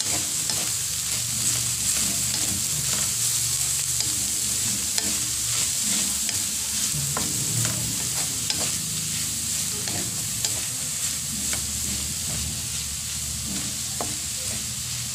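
Onion sautéing in a hot pan for boneless bangus sisig, a loud continuous sizzle with scattered scraping stirs of a spatula, close up and without voices.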